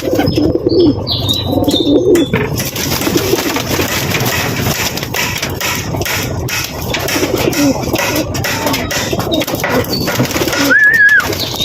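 Racing pigeons coo close by in soft, repeated throaty calls, with faint chirps and rustling around them and no talking.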